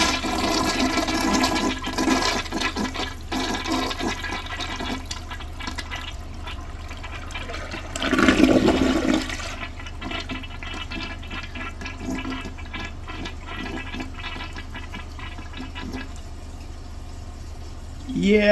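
A 1.6-gallon American Standard Cadet toilet (7th generation) flushes loudly up close, the rushing water peaking in a surge as the bowl rinses, then settling into a steady refill hiss.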